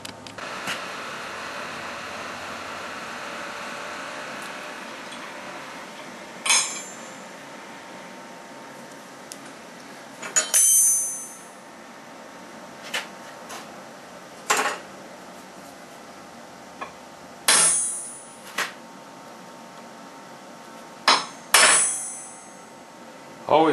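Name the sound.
punch marking metal before drilling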